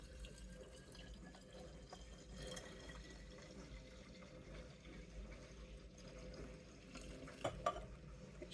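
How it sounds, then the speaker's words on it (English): Probiotic cleaning liquid pours steadily into a bottle, a soft continuous trickling and gurgle at low level, with a few brighter drips and splashes near the end and no talking. "And let's up to 300 ml, and then pour it into my bottle."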